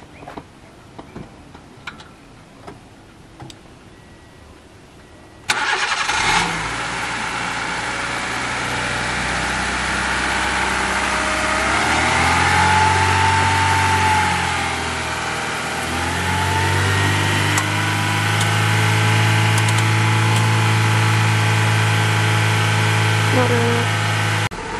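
A Subaru GC8 WRX engine cranks and fires after a jump start from an old Civic, then settles into a loud steady idle with revs held up and slowly varied, after a quiet stretch with light ticking and occasional voices.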